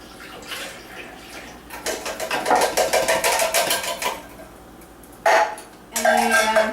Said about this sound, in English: And then you mix them in the blender.